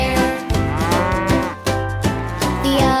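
Cows moo in a children's farm song, several long, tonal lowing calls in succession, loud and close, set against music.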